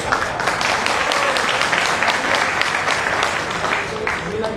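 Audience applause at a Rajasthan and Haryana community gathering in Surat, a thick, continuous roar of many clapping hands, close and steady throughout, with murmured voices mixed in.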